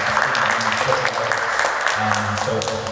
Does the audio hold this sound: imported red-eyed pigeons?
no